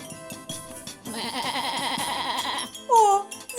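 Stage actor in a village fairy-tale play imitating a goat's bleat with the voice, a wavering, nasal bleat rising out of music and background sound, heard close and fairly loud.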